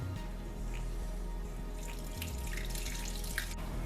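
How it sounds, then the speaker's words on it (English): Water poured and strained through a thin cloth while making paneer from scratch, a steady close trickling and splashing that runs continuously for a few seconds. "And all we're going to do is we're going to sieve this water."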